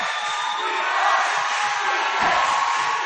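Indoor crowd at a high school volleyball match between Seton and Richmond, a steady broad roar of voices and cheers that swells slightly, with scattered shouts and some talk mixed in.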